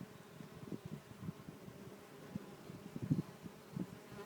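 Solitary bees buzz faintly and close around a hand held out near them, a soft, irregular insect hum with small bursts as the bees move, heard alone without any talk.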